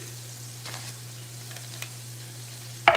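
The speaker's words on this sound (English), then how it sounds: "Chicken frying up a little good." Chicken fries in a pan over low heat with a faint, steady sizzle beneath a low constant hum, ending in a brief sharp clink.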